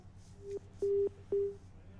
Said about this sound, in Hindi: चलिए फोन कट गया